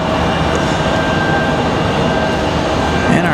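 A CRJ regional jet departs Raleigh Durham International on a windy day, its steady broadband jet roar loud and continuous throughout with a faint whine on top.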